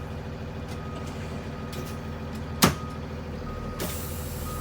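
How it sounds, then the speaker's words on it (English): A school bus idles with a steady low engine drone, then one sharp, loud hiss of the air brake bursts out as the service brake pedal is pressed, followed later by a fainter release of air. "I'm about to check my service brake with my brake pedal"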